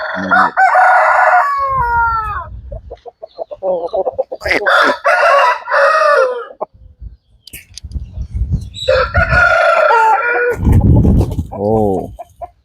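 A Karungal Mayil fighting rooster crows loudly several times at close range, with clucks and other fowl sounds, and someone talks briefly between the calls.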